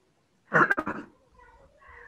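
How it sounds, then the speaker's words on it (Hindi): A single short burst of coughing, loud and close, followed by quiet background sounds. "सॉरी सर खांसी आ गई थी सर"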